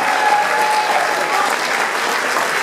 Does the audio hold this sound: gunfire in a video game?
no